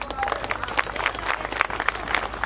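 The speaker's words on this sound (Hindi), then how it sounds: "अंकु के लिए ताली बजाएं।" An audience at a Buddhist community gathering in Agra breaks into brief, lively clapping that lasts a couple of seconds.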